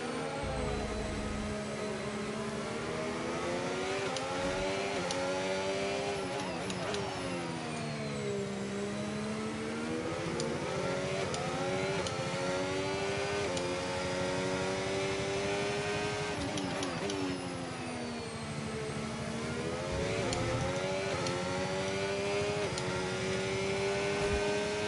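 A Ferrari race car's engine in a racing video game, a steady loud whining drone that rises and falls with gear changes and throttle across the whole stretch, with no talking.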